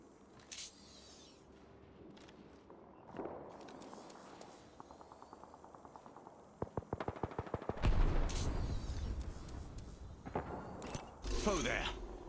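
Gunfire in Apex Legends, with scattered single shots and then a rapid burst of automatic fire, followed by heavier impacts. Game voice lines are spoken over the shooting.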